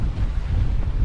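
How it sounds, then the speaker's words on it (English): Strong, gusting wind buffeting the microphone on a freezing winter hill walk near Cheviot and Hen Hole, a loud, low, continuous rumble with no voices. "The wind is horrendous now."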